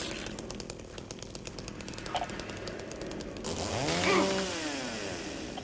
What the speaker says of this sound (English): I pulled out this chainsaw.